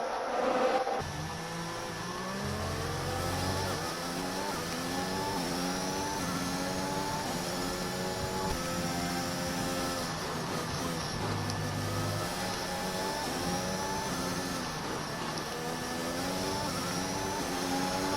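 Formula 1 cars in the F1 2021 racing game: a steady high engine whine with shifting pitch climbing and dropping as gears change, continuous and moderately loud throughout.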